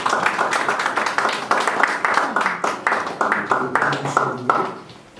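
A church congregation clapping together in a steady rhythmic beat, loud and close, with voices acclaiming over the claps before it fades out.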